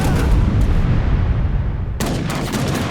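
Cannon fire in the Age of Empires strategy game, dense booming and crackling battle blasts overlapping continuously, with a sharp fresh volley about two seconds in, loud and close with no talk.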